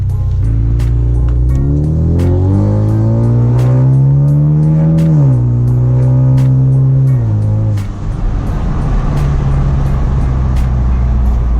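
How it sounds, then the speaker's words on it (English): A 2015 Ford Mustang EcoBoost fitted with an Airaid modular intake tube accelerates through the gears, its engine note rising and dropping with each shift, loud and close throughout without talk. "this is my first impression of the Airaid modular intake tube for the 2015 Ecoboost Mustang."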